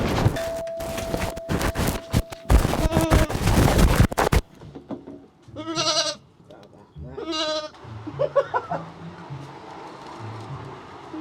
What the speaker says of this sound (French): Pourquoi il y a une chèvre?